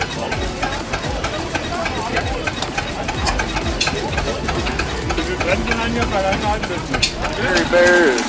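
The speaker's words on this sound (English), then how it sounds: "Gary Bear is going to start this Super Bessemer for pressing air." A rare old 50 horsepower Super Bessemer engine starting up to compress air: a steady, loud mechanical chugging with rapid regular knocking beats, continuous throughout, with a voice speaking faintly over it toward the end.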